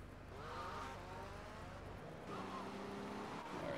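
A car engine drives in GTA Vice City, with a steady revving drone whose pitch climbs and falls as the car speeds up and shifts. Tires hiss underneath throughout.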